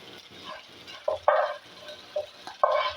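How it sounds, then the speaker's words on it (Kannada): Roasted horse gram lands in a frying pan of cooked tomato, setting off short bursts of sizzling and scraping stirs, close and alone. "ಇವಾಗ ನಾವು ಹುರ್ಕೊಂಡಿದ್ದೀವಲ್ಲ ಅದನ್ನು ಕಾಳು ಹಾಕೋಣ."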